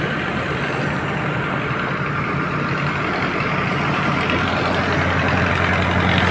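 A concrete mixer truck idles at a construction site where steel pipe is being poured, a steady, close, low diesel rumble that stays even and unbroken throughout with no voices.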